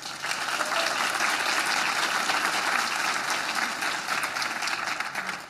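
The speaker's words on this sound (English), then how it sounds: "Let's give them all a round of applause." Attendees at a legislative breakfast on mental health give a round of applause, a full, steady clatter of many hands that swells in and eases off slightly toward the end.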